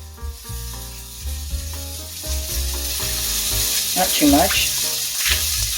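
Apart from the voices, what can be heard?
balsamic vinegar sizzling in hot pan with pork fond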